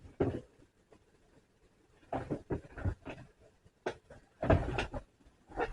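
A drawer is pulled open and rummaged through in a quiet room, giving several short knocks and sliding clunks in irregular bursts separated by near silence.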